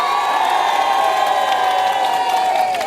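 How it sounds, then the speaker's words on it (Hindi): A studio audience at a televised election debate in Ghaziabad applauds and cheers to welcome a guest, a dense, steady wash of clapping and crowd noise throughout, close and loud, with no speech over it. "जोरदार तालियों के साथ स्वागत कर दीजिए"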